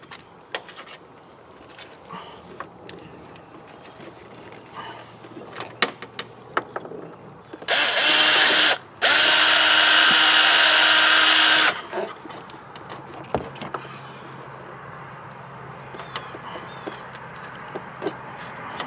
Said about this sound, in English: I'm probably going to have to drill that one out as well.